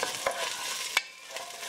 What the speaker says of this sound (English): break it down in the pot, get it cooking in my oils, frying up